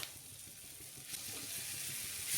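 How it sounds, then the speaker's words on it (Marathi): Green chilli thecha frying in a little oil on a tawa, a continuous close sizzle with soft bubbling that swells slightly toward the end, no voices. "तव्यावर थोडंसं तेल टाकून घ्यायचंय आणि ठेचा पण टाकून घ्यायचा आपण केलेला"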